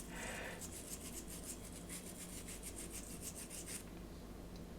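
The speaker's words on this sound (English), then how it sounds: "So I'm going to use one of these airbrush cleaner brushes" A stiff airbrush cleaner brush scrubs inside a paint cup in a fast, steady scratching rhythm, close and fairly quiet, with no talking.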